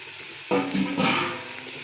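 Cabbage and potato poriyal ingredients hit a hot pan and start sizzling: a sudden loud burst of frying that swells briefly and then settles into a steady crackle.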